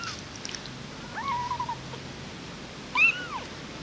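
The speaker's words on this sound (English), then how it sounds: "Kittens." Kittens found in a bin mew in short, thin high-pitched cries, two or three distinct calls a second apart over a quiet background.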